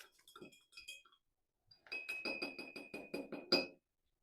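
A metal spoon or stick stirs a natural dye pot holding an iron modifier, giving a quick run of bright clinks and scrapes against the pot, then a steadier burst of rhythmic knocking and swirling, close and fairly loud.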